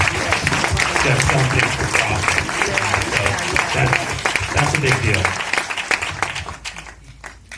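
Audience applause after a Q&A for the film Foster Boy, a sustained wash of clapping from a crowd, loud and steady before thinning out toward the end, with a voice speaking over it.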